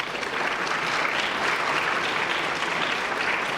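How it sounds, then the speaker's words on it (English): An audience applauds student athletes at a high school fall sports awards ceremony, a steady, dense wash of clapping that holds evenly throughout without voices. "So you deserve a round of applause."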